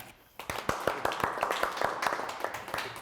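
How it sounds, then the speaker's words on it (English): A small group of people clap hands in response to a request, with irregular, somewhat scattered claps starting after a brief quiet moment and continuing steadily, fairly close and moderate in level. "Can you clap hands?"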